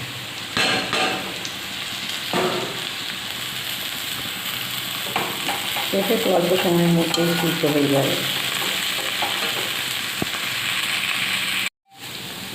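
Diced potato and drumstick flowers fry in a pan with a constant sizzle, broken by scraping and clattering stirs from a spatula, while someone talks over the cooking.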